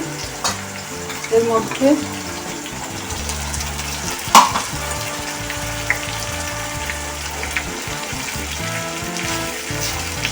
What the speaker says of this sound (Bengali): এই চিকেন স্টকের জলটা আমি একটু দিয়ে দিচ্ছি